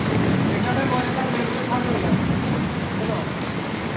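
Heavy rain in Chittagong pours down as a dense, constant hiss of drops on surfaces, loud and unbroken throughout.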